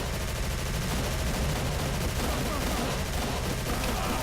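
Dense gunfire crackles without pause in the Call of Cthulhu: Dark Corners of the Earth video game, as rapid shots and bursts blend into a continuous loud barrage.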